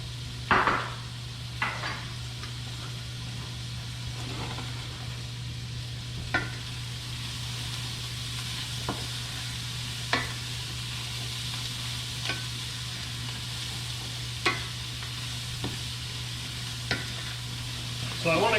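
Onions cook in bacon fat in a pot for clam chowder, giving a steady low sizzle throughout, broken by occasional scrapes and clinks of a spoon stirring against the pot.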